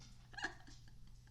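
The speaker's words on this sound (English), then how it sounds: "That's my dog." A pet dog gives a single short, soft yip or whimper-like bark over a low steady background hum, faint and brief with no talking.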